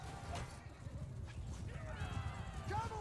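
Horses whinny in a medieval battle in Mount & Blade II: Bannerlord. Rising and falling neighs sound fairly soft within a dense wash of battlefield noise, growing more distinct toward the end.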